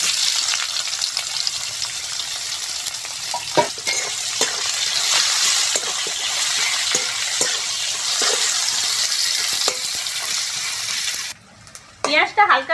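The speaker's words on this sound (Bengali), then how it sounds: "পেঁয়াজটা হালকা ভেজে নিয়েছি" Onion frying in a pan for chicken pulao, a steady loud hiss and sizzle with occasional stirring scrapes, ending abruptly with a few clatters.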